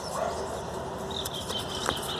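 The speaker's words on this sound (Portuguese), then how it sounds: "O que está acontecendo com esse cachorro?" A dog whimpers and yips beside the BR-040 highway, short high cries rising over a constant rush of passing cars, one sharper yelp standing out near the end; faint voices sit low in the background.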